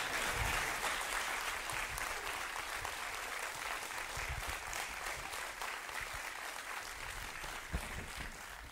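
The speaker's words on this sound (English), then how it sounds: "you audience give them a round of applause for being candidates for City Council" A crowd at an Alexandria City Council candidates' debate applauds the council candidates, a dense, even roar of clapping that holds steady throughout and fades slightly toward the end.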